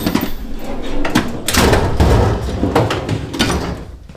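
In a professional bicycle framebuilder's small shop, a drawer of Park Tool headset and bottom bracket tools is pulled open. It makes loud, close rattling, sliding and clunking, with several sharp knocks over a few seconds.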